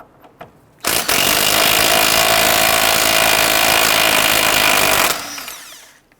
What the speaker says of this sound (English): Using a 22mm socket, we want to go ahead and loosen and remove the nut on the tie rod end.